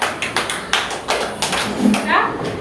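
Rhythmic hand clapping in a classroom, several evenly spaced claps in counted groups, close and moderately loud, with a teacher's and children's voices talking between and over them.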